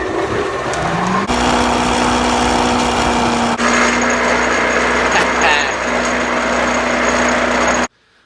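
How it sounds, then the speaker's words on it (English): A 240-volt box joint (finger joint) cutter machine runs loud and steady with a high whining hum and rough vibration, then cuts off abruptly at the end. "But at least I got the box joint cutter running."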